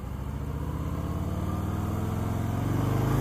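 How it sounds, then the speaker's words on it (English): A 2018 Harley-Davidson Breakout motorcycle engine accelerates hard, its deep rumbling exhaust note climbing steadily in pitch and loudness, heard close up with no talk. "I definitely love the way these engines pull."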